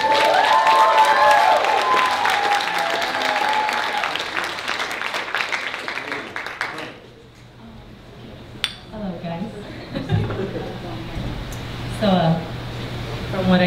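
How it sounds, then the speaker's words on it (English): A stand-up comedy audience breaks into loud applause and cheering for comedian Daniela Loza. The clapping fades after about seven seconds, leaving room noise, scattered glass clinks and a voice speaking. "Give her a nice round of applause, Daniela Loza."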